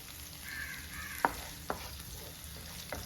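Curry leaves sizzle and sauté in coconut oil in a pan for Kerala-style prawn pollichathu, a soft steady frying hiss with a few sharp pops and crackles spaced through it.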